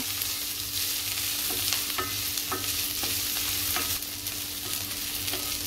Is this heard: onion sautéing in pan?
yes